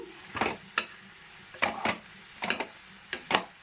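Fried okra (ladies finger) is stirred into a tomato and chili curry in a pan, with about seven quiet, evenly spaced scraping and clacking spoon strokes over a faint sizzle.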